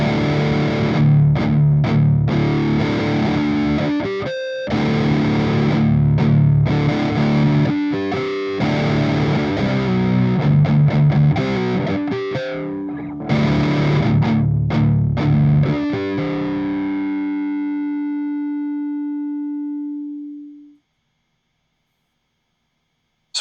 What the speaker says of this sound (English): the Rotten Sorcerer from Hagtronics. A pretty basic distortion with some really cool cosmetic features